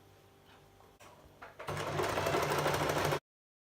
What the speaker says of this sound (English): I'm now going to sew the main part of the body of the top. So we sew the 2 ends together.